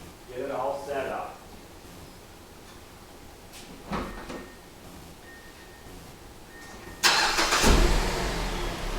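A car is driven up onto a John Bean Visualiner alignment lift, with its engine rumbling low under a voice and a few clunks and thumps. A louder surge of engine noise follows near the end.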